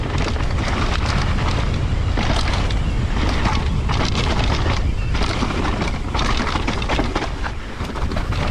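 Loud, steady wind buffeting and rushing over the microphone while riding a motorbike during a race-pace testing session at Glencoe, with dense broadband roar throughout and no talk.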